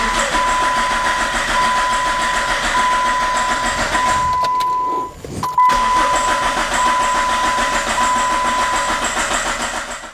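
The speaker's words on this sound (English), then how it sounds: "So what I'm going to do next is I'm going to crank the engine." Chrysler PT Cruiser engine cranking over repeatedly without catching, a loud steady whirring starter drone with a brief pause midway before cranking resumes.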